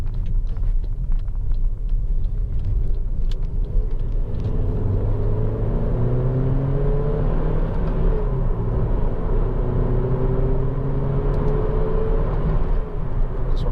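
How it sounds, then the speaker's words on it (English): A Honda Civic 1.8 i-VTEC EX five-door engine pulling under acceleration on the road, a steady rising drone heard from inside the cabin over constant low road rumble. "Just want to open up a little bit just to give a taste of the engine there."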